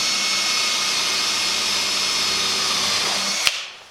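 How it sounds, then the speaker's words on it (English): A power drill whines steadily as it bores holes through wood for a screwdriver organizer, a continuous loud buzz that ends in a sharp snap as the bit breaks through, then quickly winds down. "The problem with this is I'm drilling from this side."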